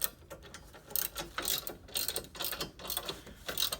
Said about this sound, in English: Back with the socket wrench.